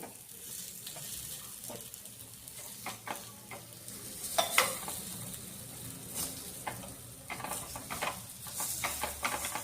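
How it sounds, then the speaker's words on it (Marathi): Sprouted moong pancake frying in a pan, a steady soft sizzle with crackling pops and occasional scraping stirs, close and moderately quiet, no voices. "एका बाजूने कसे छान असे लाल खरपूस भाजले गेले."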